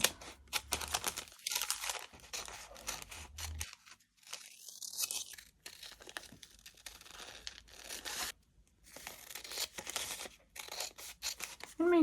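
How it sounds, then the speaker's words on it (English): Scissors snip and crinkle through a paper bodice pattern during a full bust adjustment, giving close, irregular cuts and rustles with short pauses; a voice is faintly present. "we're just gonna cut like this"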